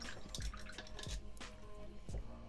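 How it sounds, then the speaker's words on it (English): A paintbrush swished and tapped in a water pot while painting a miniature figure, with soft sloshing and three distinct dripping knocks spaced across the moment, close and fairly quiet. "Wash the brush"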